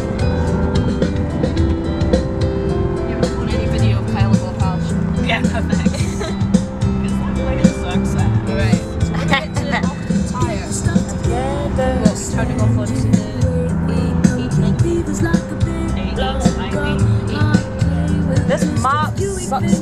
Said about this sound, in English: me driving a backwards car on the wrong side of the road